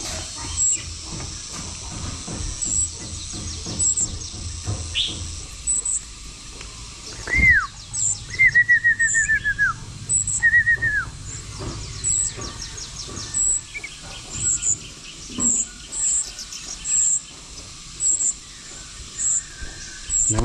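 Young red-whiskered bulbul chicks call from a nest outdoors in northwestern Vietnam, thin high chirps and a few short rising-falling whistles over a steady hiss of insects, the calls scattered and fairly faint.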